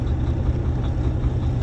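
Steady low idle of a Volvo truck engine with an I-shift gearbox, its throttle pressed but the revs not rising, a constant close rumble alone for under two seconds.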